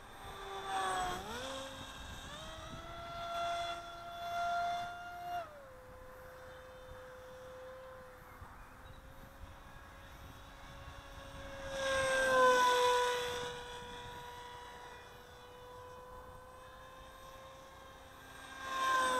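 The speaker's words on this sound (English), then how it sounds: "These are cracking little planes" A small Bixler RC model plane flies overhead, its electric motor whining steadily and shifting pitch as it climbs, turns and swoops past, growing louder on close passes and fading as it moves away.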